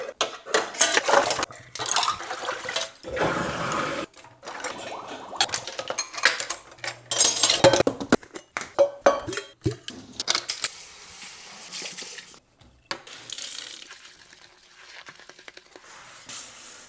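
Dishes are washed by hand in a home kitchen while wearing gloves, giving irregular clinks and clatters of plates and cutlery, splashes and scrubbing, with short quiet pauses and a softer rustle toward the end.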